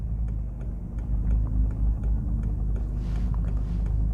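SEAT Leon Cupra Mk2 on Eibach Sportline lowering springs driving a very bumpy road, steady loud low rumble of tyres and engine with faint rattling ticks from the ride.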